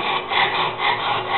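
Rhythmic rasping strokes of cloth-backed sandpaper rubbing against a wooden clock bell stand stem, close and steady, about three back-and-forth passes with no voices.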